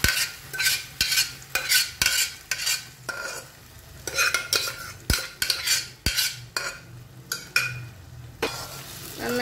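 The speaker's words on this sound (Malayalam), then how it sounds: "നന്നായിട്ടൊന്ന് മിക്സ് ചെയ്ത് കൊടുക്കുക." Pumpkin and lentil mix is stirred in a pan: repeated sharp scrapes and clacks of a spoon against metal come in an uneven rhythm over a soft simmering sizzle, close up and without talk.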